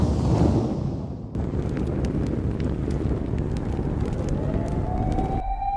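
A big fire burns in a home fireplace, giving a steady, fairly loud roaring rush with scattered sharp crackles and pops. The sound runs continuously for several seconds, and no one speaks.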